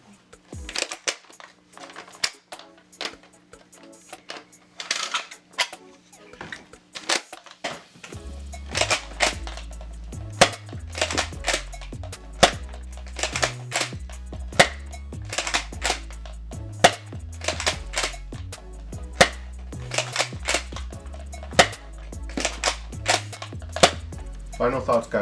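A Nerf Rival Takedown blaster fitted with an upgraded K25 spring shoots repeatedly, giving sharp clacking snaps at an irregular rhythm. A low, steady musical beat joins partway through.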